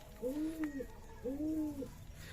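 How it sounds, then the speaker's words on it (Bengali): Two racing pigeons coo twice in long, rising-and-falling calls, nearby and fairly loud, with a pause between them. "দেখছেন এই যে ডাকাডাকি করতেছে রেসার দুটা নোয়ার"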